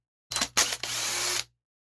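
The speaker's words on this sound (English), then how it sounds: "So now we'll go ahead and switch back to the impact. And run these screws out." Impact driver backing screws out of a 26cc marine engine during teardown, a close, loud burst of whirring and hammering in two short pulses followed by a steady one-second run, then silence.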